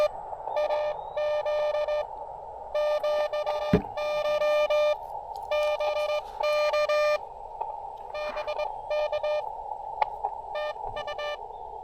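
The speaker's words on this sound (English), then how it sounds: "How the fadings just go up and down and up and down." Morse code tones beeping in rapid bursts over radio hiss from a low-power QRP station, the signal swelling and fading in strength, with faint static crackles.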